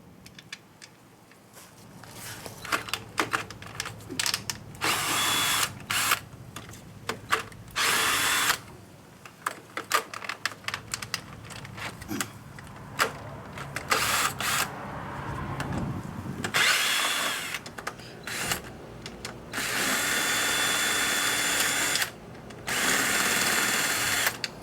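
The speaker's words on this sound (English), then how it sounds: "we can remove the 10 screws that are around the cover crankcase" A power tool whirs in repeated short bursts as the 8mm crankcase cover screws come out of a GY6 150cc scooter, the pulses stopping and starting over and over with brief quiet gaps between them.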